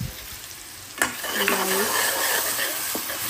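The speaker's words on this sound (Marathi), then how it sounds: "चटणी आपल्याने चांगल्या प्रकारे फ्राय करायला लागेल. या कांदा एकदम लाल होतपर्यंत" Chopped onions fry for a chutney, being cooked until they turn deep red, with a loud, close, continuous sizzle. A spoon scrapes and stirs through the pan, and a faint voice may sound in the background.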